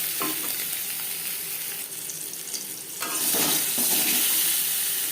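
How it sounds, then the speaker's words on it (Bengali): Eggs frying in a hot pan for egg curry, a loud continuous sizzle and hiss that swells stronger midway, close and alone without talk. "ডিম লাস্ট করে ভেজে নিয়েছি একটা পাত্রে উঠিয়ে নেব"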